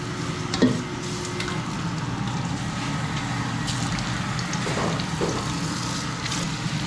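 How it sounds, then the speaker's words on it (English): Fish frying in hot oil in a home kitchen, giving a steady, close broadband sizzle that carries on through the whole stretch, with a brief clunk near the start and no talk. "the oil is hot and it's time to put the fish in"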